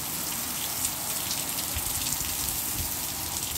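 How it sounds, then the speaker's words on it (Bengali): Heavy monsoon rain in Goa pours down steadily and loudly, a dense continuous hiss of drops drumming on surfaces with no voices. "খুব ভয়ানক বৃষ্টি।"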